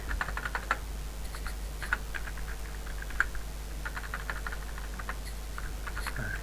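Brisk bursts of computer keyboard typing, clusters of quick light key clicks with short pauses between words, close and moderately quiet over a steady low hum.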